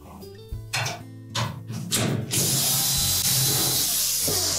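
A power driver backs 3/4-inch hex head screws out of a Whirlpool washer's lower access panel, giving several short whirring bursts followed by a longer, louder continuous whir, with no talking.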